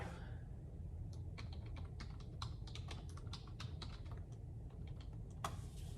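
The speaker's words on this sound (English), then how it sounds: "So let me type these out." Steady typing on a computer keyboard, a quick irregular stream of close, crisp key clicks lasting several seconds over a low background hum, with no voices.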